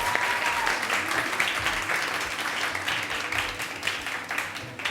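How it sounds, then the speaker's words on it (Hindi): A studio audience on a Ramazan iftar television show applauds in a dense, continuous wash of clapping, loud and sustained throughout, with a voice faintly underneath. "बहुत सारी तालियां डॉक्टर फजल के लिए।"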